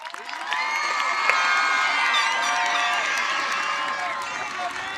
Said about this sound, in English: Family members and guests, please join me in giving them a round of applause.